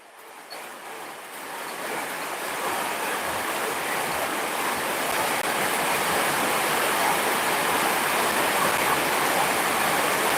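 Heavy rain pours down in a dense, steady roar that swells over the first couple of seconds and then holds loud and even, with no talking.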